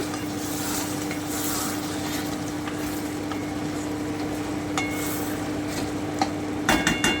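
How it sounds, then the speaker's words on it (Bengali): Chilli prawns frying in a pan are stirred right after the lid comes off, giving a constant close sizzle with soft scraping and a brief clatter of utensil on pan at the end. "এবারে আমি ঢাকাটা উঠিয়ে নিচ্ছি একটু নেড়ে দিচ্ছি"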